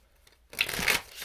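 A quick riffle of tarot cards being shuffled, a short crisp flutter close by after a moment of near silence.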